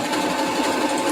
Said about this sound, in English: So I'm just going to sew for a minute